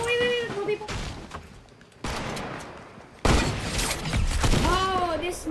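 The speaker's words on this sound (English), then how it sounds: "The rapid fire submachine gun." Rapid-fire submachine gun bursts in a Fortnite match, coming as choppy fusillades of shots mixed with game sounds and music tones, with overlapping, louder gunfire toward the end.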